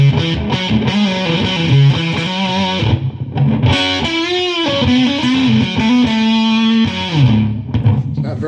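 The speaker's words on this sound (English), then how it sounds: "And the reverb." Distorted electric guitar through a Levitate pedal's reverb setting, chords and bent notes sustaining with a light wash of ambience behind them, played loud and steady with no voices.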